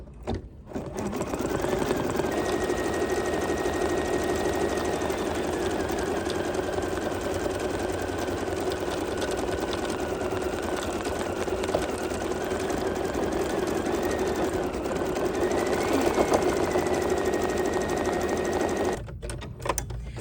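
An embroidery machine stitches a zigzag to hold down a sock-themed appliqué, a steady, continuous mechanical whirring with a regular needle rhythm running nearly twenty seconds at close range, stopping near the end.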